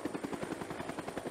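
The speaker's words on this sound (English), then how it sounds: "And that's a helicopter." Cartoon-style helicopter sound effect in a children's story, a steady rapid rotor chop pulsing evenly and fairly loud, heard alone without talk.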